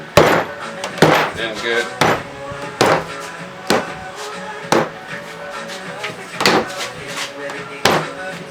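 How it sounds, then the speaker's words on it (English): A rubber mallet knocks PVC pipes together for a swaying zombie prop, with about eight or nine dull, evenly spaced thuds ringing close and loud, and a brief spoken phrase in between. "I'll just hit it with the rubber mallet, get all the pipes"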